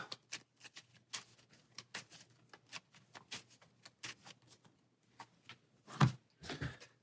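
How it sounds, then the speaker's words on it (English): Game cards from a Dice Throne Adventures board game being shuffled, a quick series of soft riffling snaps and taps, close and quiet, ending with a few louder slaps. "So all his other cards will get shuffled up."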